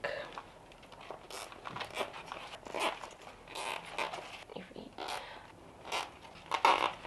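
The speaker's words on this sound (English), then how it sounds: "we go back in with the zip ties and like reattach the pole together" Zip ties ratchet tight while reattaching a moss pole for a houseplant, a series of quick zipping rasps and clicks at close range, fairly quiet, between bits of handling noise.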